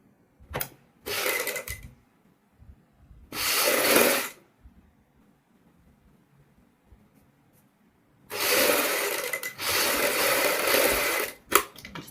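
Hand stitching a padded cup onto blouse fabric, heard as several close, dry rustling bursts of thread being drawn through cloth, separated by quiet pauses, with no talking.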